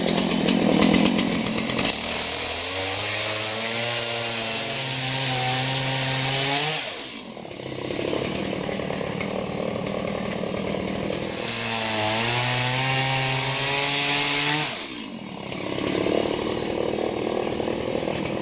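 A Stihl MS170 chainsaw cuts through firewood in two long passes. The engine bogs into a lower, laboring note under load, then revs freely between cuts, steady and close throughout.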